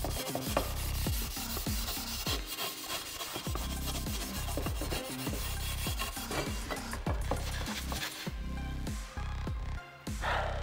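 Steady scratchy rubbing of abrasive against sheet metal on a 1939 Lincoln Zephyr pillar, close and continuous, with rhythmic back-and-forth strokes throughout.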